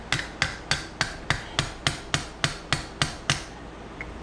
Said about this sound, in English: Because I used the screwdriver as a hammer.